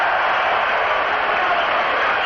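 Crowd at a baseball game in Mickey Mantle's era, heckling Mantle at the plate: a steady, loud wash of massed voices and jeering that holds without a break.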